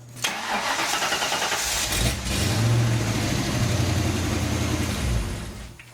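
A Ford Mustang SN95 engine cranking and catching just after the battery is reconnected, settling into a loud, steady rumbling idle close by for several seconds before fading slightly, with no talking.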